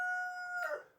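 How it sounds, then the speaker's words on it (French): A rooster crows once nearby, a single strong, tonal cock-a-doodle-doo that rises and then breaks off into a rough tail, heard alone in a quiet farm setting. "Présentement, j'ai un coq ici."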